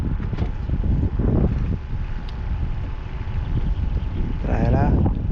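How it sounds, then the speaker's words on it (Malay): Strong wind buffets a small boat out fishing, a constant low roaring rumble that persists throughout, with indistinct voices mixed in beneath it. "Angin pun kuat gila."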